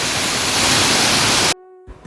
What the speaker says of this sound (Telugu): ఆ నీటి ప్రవాహం నుంచి వచ్చే శబ్దం వింటుంటే చాలా గొప్ప అనుభూతి కలిగింది